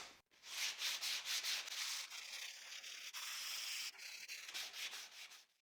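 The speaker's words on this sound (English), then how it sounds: "I will apply a bit of glue and sand again" Wood being hand-sanded again after glue has been applied, a soft, steady rhythmic rubbing in quick strokes that carries on alone for several seconds.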